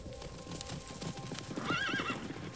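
Horses whinny and neigh while hooves clip-clop in a loose, uneven rhythm, fairly close and moderately loud, with one clear high whinny near the end.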